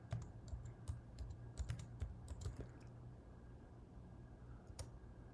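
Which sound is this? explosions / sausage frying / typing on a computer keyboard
typing on a computer keyboard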